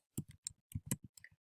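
A computer keyboard being typed on up close, about ten quick, irregular keystroke clicks in a short burst with no voices.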